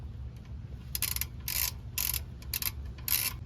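Ratchet loosening the oil drain plug at the rear passenger side of a Ford Transit van during an oil change, a run of five short bright clicking bursts close by over a low steady hum, with no talk.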